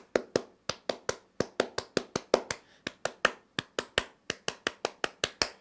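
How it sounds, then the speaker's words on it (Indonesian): A small group performs the Indonesian Pramuka scout clap indoors, sharp unison hand claps in a patterned rhythm of quick doubles and singles, close and crisp with near silence between beats. "2 kali tepuk pramuka."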